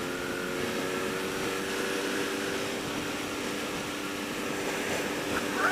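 Wind rushes steadily against a rider's helmet microphone on a BMW R nineT Urban GS motorcycle, a dense continuous roar with faint engine tones underneath and no talking.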